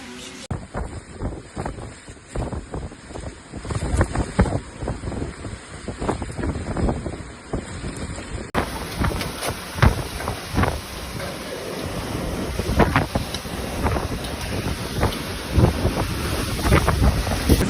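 Strong cyclone winds from Cyclone Garance batter Reunion Island, a loud, continuous roar of gusting wind buffeting the microphone for the whole stretch, with bursts of rattling and churning surges.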